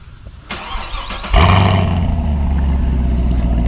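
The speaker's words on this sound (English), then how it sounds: "that quad tip dual exhaust" 2024 Chevrolet Camaro Convertible 2SS with quad tip dual exhaust starting up: a click, a brief crank, then a loud deep rumble that settles into a steady, throaty idle close by.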